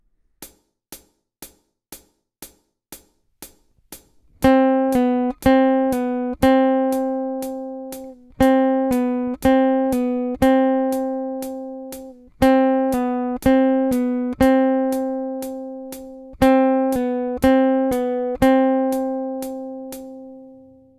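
Fingerstyle acoustic guitar exercise for a sad love song: a few soft count-in clicks, then steady plucked chords and arpeggiated notes ringing out in repeated phrases, played alone and clearly.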